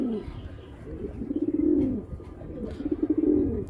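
Giribaj flying pigeons coo up close in two rounded, throbbing phrases, each swelling and fading, with nothing else competing.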